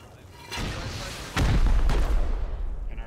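In the video game Rust, a rocket is fired and explodes with loud, rumbling booms: one swell near the start, then a heavier blast with a second boom close behind, each trailing into a long, noisy roar.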